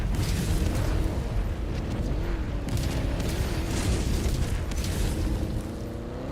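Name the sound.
napalm barrage explosions in a video game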